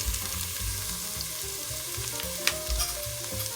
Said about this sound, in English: next I'm going to add in my tomato paste